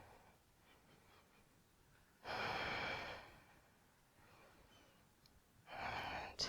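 Two loud, breathy exhalations rise from quiet room tone during a lower-body yoga stretch, each lasting under a second and spaced a few seconds apart, with no talking.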